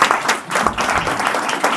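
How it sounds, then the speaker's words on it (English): A crowd applauds, a dense burst of clapping heard up close, rising and falling briefly. "let's give a round of applause"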